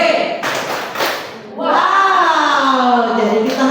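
A group of teachers at a positive-culture training session claps out the 'tepuk wow' clap chant, a short burst of several sharp claps followed by voices chanting together.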